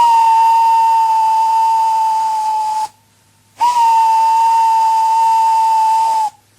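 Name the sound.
steam locomotive whistle blowing repeatedly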